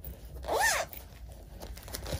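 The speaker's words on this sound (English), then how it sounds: "See how the zipper works all the way?" A long zipper runs along a handmade vinyl pouch lined with fabric scraps on both sides, giving one brief raspy zip pull near the start followed by quieter handling rustles.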